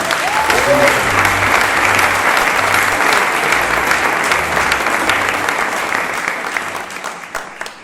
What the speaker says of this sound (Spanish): La recibimos con un fuerte aplauso. Fuerte aplauso, Elisa.